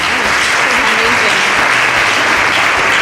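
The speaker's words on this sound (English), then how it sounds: "And another round of applause to our lovely chef." Sustained studio audience applause for a cooking show's celebrity chef guest, a loud dense wash of clapping that holds steady throughout.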